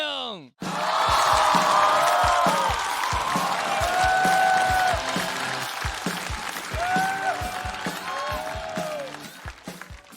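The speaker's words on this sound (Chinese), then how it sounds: "掌声有请" A large studio audience at a stand-up comedy show bursts into sustained applause and cheering to welcome a comedian, dense and loud clapping that carries on for several seconds and slowly thins toward the end.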